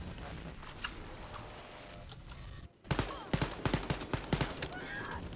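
Gunfire from a weapon in the video game Wolfenstein Youngblood: a quick run of sharp shots after a brief lull, loud and close over a low game background hum.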